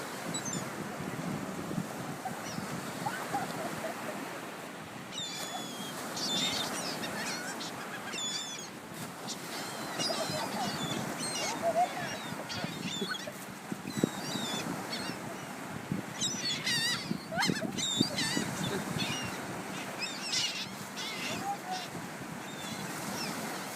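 Seagulls calling and squawking as they are fed, with scattered loud cries over a steady wash of wind and surf near the shore, and voices talking faintly in the background.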